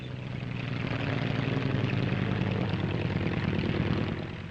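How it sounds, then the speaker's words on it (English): Twin-engine Bristol 173 tandem-rotor helicopter flying at the 1953 Farnborough air show, a steady loud engine and rotor drone with a dense low throb, no voices. "Here's the Bristol 173 or rotocoach with twin engines."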